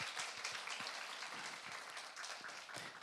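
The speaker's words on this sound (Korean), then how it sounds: "우리 귀한 미디어 팀에게 좀 박수로 한번 좀 격려해 주시죠" A church congregation at a youth worship service applauds the media team, a soft, distant patter of many hands clapping steadily for about three seconds.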